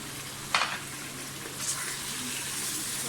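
Chicken browning with homemade nihari masala in a pan, a steady soft sizzle and frying hiss throughout, with a brief clatter of stirring near the start.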